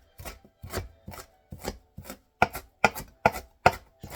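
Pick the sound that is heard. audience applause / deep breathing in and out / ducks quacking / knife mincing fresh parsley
knife mincing fresh parsley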